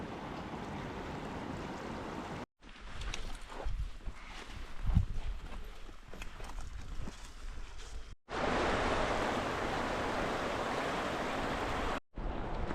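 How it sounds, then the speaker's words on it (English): Flowing creek at a wilderness trail crossing in the Eremite Valley of the Tonquin Valley, a steady rushing wash in several segments, with a quieter stretch of footsteps and handling noise in between. "We came to a creek crossing."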